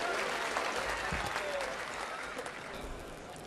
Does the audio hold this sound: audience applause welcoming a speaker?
yes